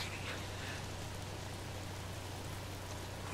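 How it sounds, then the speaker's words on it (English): Steady rain hiss from the video game Days Gone, a constant soft wash of falling drops at moderate level, with a low hum beneath and no voices. "If it's not the freaks, it's the goddamn rain."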